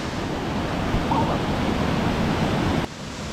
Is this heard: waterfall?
yes